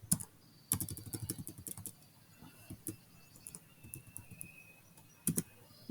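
Keys clacking on a computer keyboard, including the tab key, in quiet, irregular bursts of sharp taps with short pauses between, close and fairly soft, with no speech.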